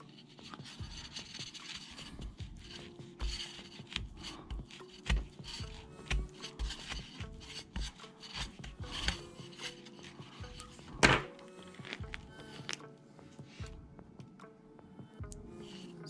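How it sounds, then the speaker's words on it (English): A knife slices open a bumpy-rinded hardy citrus fruit, a yuzu, orange and trifoliate hybrid, giving quiet close scraping and cutting scratches with small taps and ticks, irregular and soft, with no talk. "Let's cut this one open."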